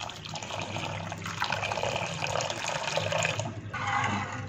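One cup of water pours steadily into a pan holding sugar, a continuous soft splashing rush that runs for several seconds at low level with a brief dip near the end.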